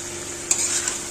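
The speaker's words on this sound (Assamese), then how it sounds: "এতিয়া মছলা দি দিলোঁ আৰু এতিয়া ধুনীয়া কৰি গেছটো কমাই হেনা ভাজি থাকিব লাগিব" Pork frying with spices in a pan over a lowered flame, giving a steady close hiss of sizzling with a brief stirring scrape partway through.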